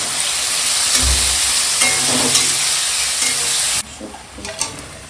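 Tomato cooking in a pan with turmeric and salt: a steady loud sizzle and frying hiss with occasional stirring scrapes, dropping to a quieter simmer near the end.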